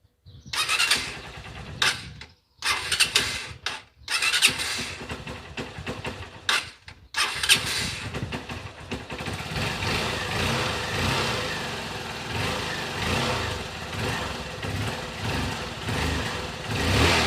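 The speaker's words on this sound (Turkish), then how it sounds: "Şimdi motorumuzu çalıştıralım." Honda CB 125 E motorcycle with a carburetor: several short cranking bursts broken by silent gaps, then the engine catches and settles into a steady, slightly uneven idle, loud and close.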